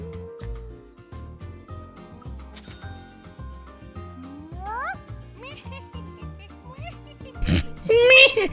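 A cartoonish kitten meows in a short rising, high-pitched cry from the video game D4: Dark Dreams Don't Die, playing over a looping game music bed, with a few brief bright effect sounds near the end.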